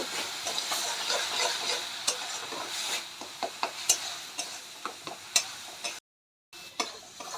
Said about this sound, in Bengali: এবার আদা রসুনের বাটাটা যতক্ষণ না কাঁচা গন্ধ যায় ততক্ষণ আমরা ভেজে নেব